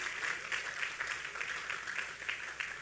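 Church congregation applauding together during a sermon, a steady dense wash of many hands clapping with a rhythmic pulse, fairly distant and continuous throughout.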